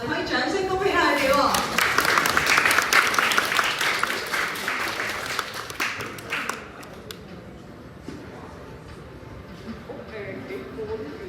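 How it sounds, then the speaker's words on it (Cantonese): An audience applauds at a technology and space-application competition award ceremony, a dense burst of clapping that fades after several seconds, while a host speaks over and after it. "我哋可以掌聲恭喜下佢哋喎"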